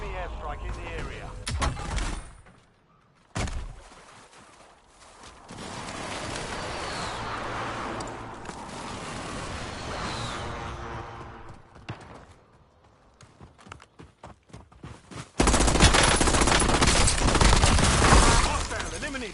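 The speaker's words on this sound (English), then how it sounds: "Enemy airstrike in the area." An enemy airstrike hits in the Call of Duty: Warzone Black Ops 6 game, with loud rolling blasts and bursts of gunfire that stop suddenly, a short silence, then another heavy, sustained barrage.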